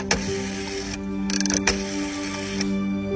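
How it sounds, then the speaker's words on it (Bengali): Rotary telephone dial turned at a phone booth, brief mechanical whirring and clicking bursts close up over a low steady background hum. "একটা কয়েন হাতে নিয়েই ডায়াল ঘোরাতে"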